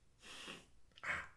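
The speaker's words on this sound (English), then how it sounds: "I gotta sneeze." A person sneezes, beginning with a long breathy inhale and then a sharp, brief, close burst of air.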